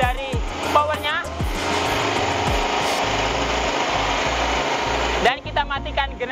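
A large one-ton rotary grain dryer, fired with firewood, runs with a steady whirring mechanical drone while someone talks over it.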